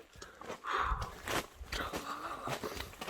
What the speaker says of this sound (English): Don't mind that crunching noise. It's just a bag of chips I got attached to the back of my bag.